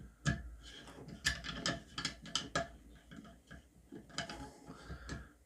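A Victorinox Venture Pro pocket knife with a paddle bit is worked back and forth like a ratchet while driving a screw, producing a quiet, irregular series of close mechanical clicks and ticks with no talking.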